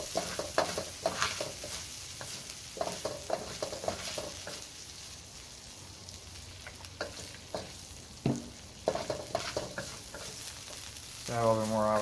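Kung Pao chicken stir-frying in avocado oil with dried peppers, a steady close sizzle broken by repeated scraping and tossing strokes of the spatula, ending in a brief louder hiss.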